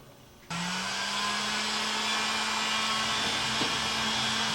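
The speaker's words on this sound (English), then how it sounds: "Then I have a heat gun. I'm going to kind of tighten that up" A small handheld heat gun used to shrink heat-shrink tubing on a speaker switches on abruptly, then blows a loud, steady airflow roar with a constant motor whine.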